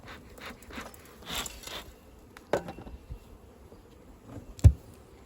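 Honey bees buzz around an open beehive during a hive check, a faint, steady droning hum with a few brief closer buzzes as individual bees fly past, no talking.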